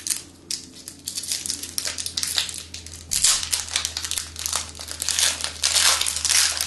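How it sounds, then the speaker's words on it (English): Foil booster packs of M13 Magic: The Gathering cards are torn open, giving loud, close crinkling and crumpling of wrappers in bursts with brief pauses, no voices. "I have 6 packs of M13 cards that I'm going to be opening up"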